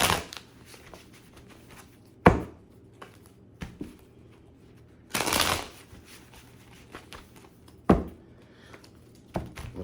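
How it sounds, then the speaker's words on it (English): A deck of tarot cards is shuffled on a table in short riffling bursts separated by quiet pauses, close and crisp, with softer handling rustles between. "I'm gonna shuffle them again"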